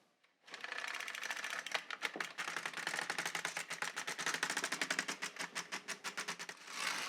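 A knitting machine carriage runs back and forth across the needle bed knitting rows for a shawl, making a dense rapid clatter that slows into distinct rhythmic clacks near the end, close and alone.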